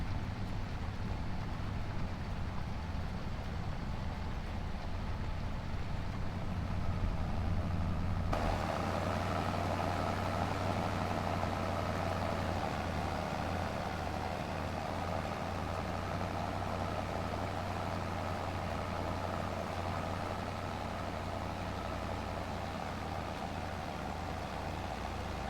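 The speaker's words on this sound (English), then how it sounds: "Take a look from inside the cab. Not a bad looking tractor here." Steady low engine drone of a tractor idling in the video game Farming Simulator 25, heard from inside the cab with a planter hitched; a constant hum with no talk.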